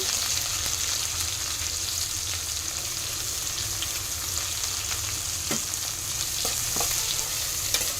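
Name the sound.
frying onions with curry leaves in a pan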